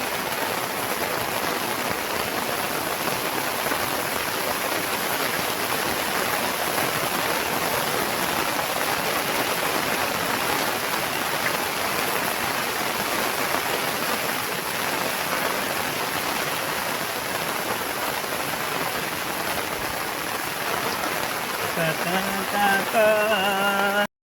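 Heavy monsoon rain in the Konkan pours down in a dense, unbroken roar on a hard surface, continuous throughout, with a faint voice emerging at the very end.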